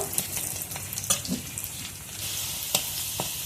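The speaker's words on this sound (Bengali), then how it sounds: "এখন পেঁয়াজ আর রসুন লাল লাল করে ভেজে নেব।" Close-up sizzling of onion and garlic frying in a pan, with intermittent stirring scrapes and clicks from a utensil.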